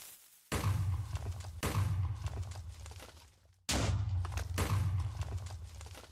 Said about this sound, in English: We added sound to the TNT on explosion, and when they prepare as well.